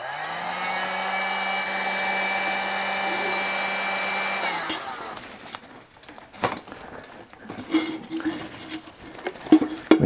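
A hot-air blower heats a CV joint boot in a cold garage at about 10 degrees: a steady whirring hum for several seconds that cuts off, followed by small handling clicks and scrapes. The voice in the background is faint.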